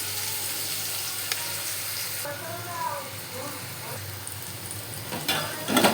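Vegetables, washed and cut eggplant and ridge gourd, sauté on a low flame, with a steady soft sizzle and occasional stirring scrapes near the end.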